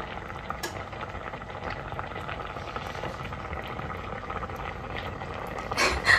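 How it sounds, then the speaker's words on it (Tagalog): A pot of tuna simmers on a stove, its water bubbling and crackling in a continuous soft boil, with a few brief clinks and a louder rustle near the end. "Ayan, kumukulo na siya."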